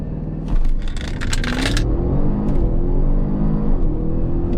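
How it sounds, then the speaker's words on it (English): An Audi RS7 launches under launch control, its engine roaring loud and close inside the cabin, with sharp bursts and crackles at the aggressive gear shifts, then a sustained, rising pull as it accelerates. "got to do a launch control, of course, and it's pretty aggressive in this car"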